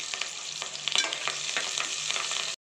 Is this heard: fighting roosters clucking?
no